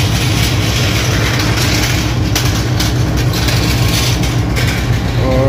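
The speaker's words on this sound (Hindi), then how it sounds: "ट्रेन अब आहिस्ता आहिस्ता रवाना हो रही है लोअर जंक्शन रेलवे स्टेशन से" The Green Line Express pulls slowly out of Lahore Junction railway station, a loud continuous low rumble of the engine and rolling cars close by.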